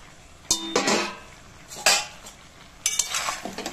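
Fried potatoes and pumpkin pieces being turned with fish heads in a pan, with three bursts of scraping and clattering from a spatula over a soft sizzle, close by and with no voices.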